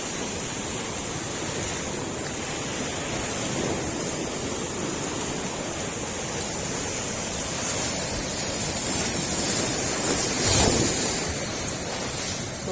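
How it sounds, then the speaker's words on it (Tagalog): Large ocean waves break and roar at a beach in Pagudpud, a loud continuous wash of surf mixed with wind buffeting the microphone, swelling to a heavier crash near the end, with no talking. "napakalaki kasi ng mga alon, no."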